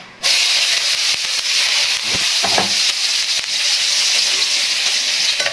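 Garlic sizzles and crackles steadily in a hot pan while cooking bopis, a loud, continuous frying hiss with brief stirring clatter and no voices.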